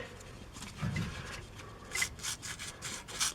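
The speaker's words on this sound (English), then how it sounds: "I'm just gonna run the wire brush over this real quick" A wire brush scrubs the brake caliper on a 2014 Chevy Silverado during a brake replacement with StopTech parts: a few short, quiet scratchy strokes close by, irregular and brief.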